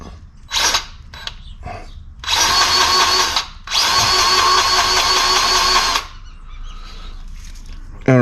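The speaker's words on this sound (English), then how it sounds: "I'm going to run some grease in it right now and see where it comes out" Grease gun pumping grease into a grease fitting on a Willys Jeep pickup transmission or transfer case: bursts of mechanical squeaking and creaking strokes, with two long sustained runs in the middle and shorter pumps around them.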